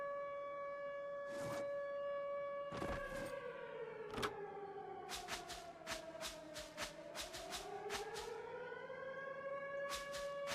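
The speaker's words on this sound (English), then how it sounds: "Gotta fill up this wheat while the siren does its thing. Siren going to siren." An air-raid style siren in the survival game Misery wails steadily, its tone sliding slowly down and then rising again. Sharp clicks and knocks break in now and then over the sustained howl.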